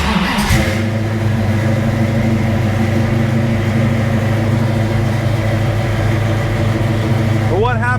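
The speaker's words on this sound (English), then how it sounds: "So let's fire up the car." A car engine cranks and catches near the start after its battery has been recharged during a starter solenoid replacement, then settles into a steady, loud idle that drones close by for the rest of the clip.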